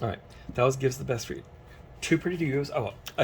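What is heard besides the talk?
None of the usual background noises is heard.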